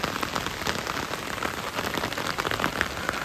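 Heavy, steady rain pours down onto a flooded house, a dense, continuous hiss of drops drumming on surfaces, loud and unbroken throughout with no voices.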